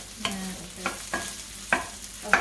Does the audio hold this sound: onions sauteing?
yes